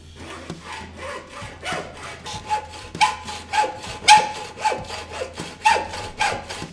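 A hand saw cuts through the metal PRS-33.2 upright between two hose clamps in loud, close, evenly paced back-and-forth strokes, roughly two per second, with no talking.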